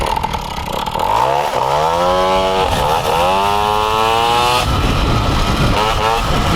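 A Motobécane moped engine with a dented Doppler exhaust idles and revs close by, its pitch rising and falling in sweeps, loud and steady throughout.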